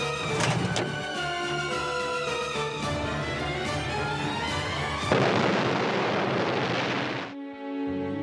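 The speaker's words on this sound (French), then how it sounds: "The explosion entirely blew out the building" A loud building explosion from a wartime bombing attack on a conference room, a sustained roaring blast with a sharp surge around five seconds before abruptly cutting off, over a musical score.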